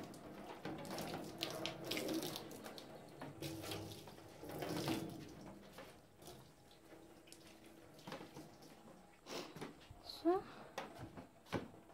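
Water running from a tap while a terrace is rinsed and swept in preparation for summer: a soft, uneven splashing flow at moderate distance, with a person talking over it and a few light clattering knocks near the end.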